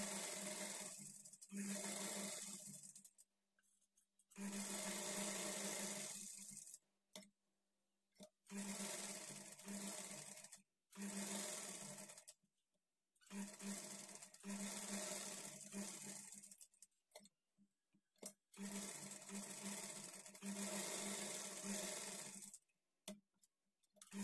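A sewing machine stitches a velvet high neck blouse in repeated loud, close whirring runs, each a few seconds long, broken by short silent pauses.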